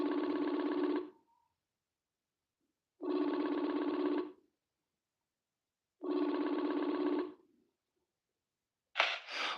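A phone rings with an incoming call, three long, even tonal bursts spaced by silent gaps, loud and close, followed by a brief different electronic tone.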